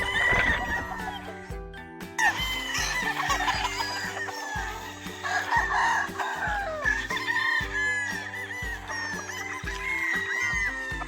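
Game fowl rooster crowing on a farm, several drawn-out crows mixed with clucking from other chickens nearby, moderately loud and continuous, no talking.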